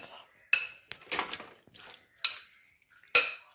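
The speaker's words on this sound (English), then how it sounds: "Okay, so we're going to put this in the pan. I'm going to bring the pan over here." A metal pan shifted around a home kitchen, with several sharp clanks and scrapes against the stovetop or counter and clattering pieces in between, close and fairly loud.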